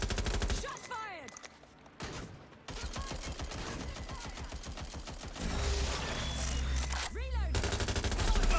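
Dense, rapid gunfire rattles through a Watch Dogs: Legion firefight, near and loud in sustained bursts with brief pauses, while game voices speak over it.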